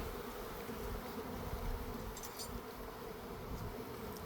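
Dense, continuous buzzing of many package honeybees during hive installation, steady and close, with no voices.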